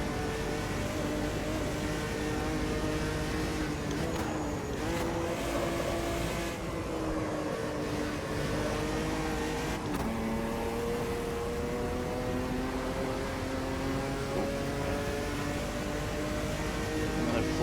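Stock car engine in a Brazilian stock car racing video game, droning steadily with shifting pitch as the throttle rises and eases through corners, continuous and fairly close for the whole stretch with no speech.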